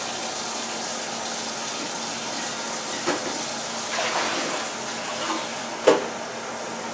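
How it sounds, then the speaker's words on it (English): Water runs steadily over developed film during its wash, a continuous broadband rush with a few small splashes and knocks, close and unbroken throughout. "now I'm gonna put these back in the water and give them their washing time now"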